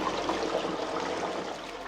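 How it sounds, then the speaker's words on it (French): A toilet flushing, its rush of water steady and close, draining and trickling over about two seconds with no voices. "on tire la chasse d'eau"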